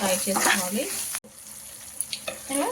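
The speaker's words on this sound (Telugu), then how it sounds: "ఫ్రై చేసేసుకోవాలి అన్ని మసాలా వేసేసాక" Spice masala sizzles in a pan for a tamarind-based taro root curry, a steady close hiss with a few scraping stirs and a short break partway through.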